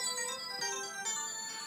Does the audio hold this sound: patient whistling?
no